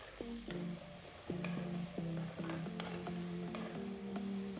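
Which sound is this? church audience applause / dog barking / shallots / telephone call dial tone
shallots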